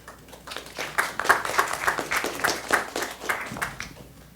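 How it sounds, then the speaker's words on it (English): An audience at a talk on AI bias claps after the presentation, a moderate patter of many hands rising and tapering over a few seconds. "One more round of applause for an absolutely fantastic presentation today"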